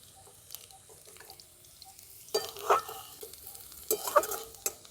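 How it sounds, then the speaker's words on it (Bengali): Onions frying in a pan for a Bengali dal paratha and aloo dum meal, a quiet sizzle broken by louder bursts of scraping and stirring clatter. "পেঁয়াজগুলো ভাজা ভাজা হয়ে গেছে"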